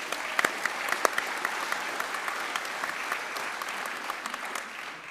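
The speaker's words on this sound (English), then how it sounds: "A round of applause for our stewards also," An audience at the ALBA Party annual conference applauds the stewards: steady, dense clapping from a large hall crowd lasting about five seconds.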